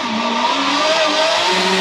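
Blender whirring as it mixes a vanilla protein shake with water: a loud, steady motor whine that holds evenly from start to end, with no voices.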